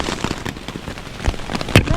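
Rain pattering on a tent at a campsite on Cumberland Island, a dense steady patter with sharper drops striking nearby, no voices.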